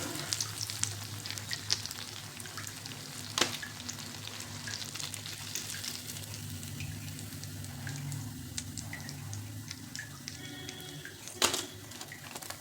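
Mini potato vadas for fasting frying in hot oil, a continuous soft sizzle with occasional clinks of a utensil against the pan, close and fairly quiet.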